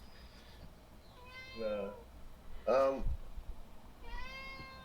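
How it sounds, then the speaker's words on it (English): A cat meows several times close by, with drawn-out, rising and falling cries spaced a second or so apart, while a person speaks a word alongside them. "Sorry if you're hearing my cat."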